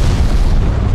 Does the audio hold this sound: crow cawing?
no